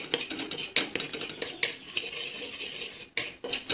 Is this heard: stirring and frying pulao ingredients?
yes